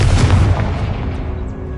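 A Confringo fire spell explosion in Hogwarts Legacy: a loud, booming blast at the start that rolls off into a fading rumble over the next second or so, with no talk.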